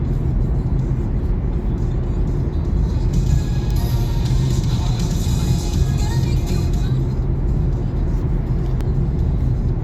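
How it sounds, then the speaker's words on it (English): A car cruises along a dual carriageway with steady, loud road and engine rumble and tyre roar throughout, no talking over it. "I'm just going to quickly pause and let you watch me drive along the dual carriageway."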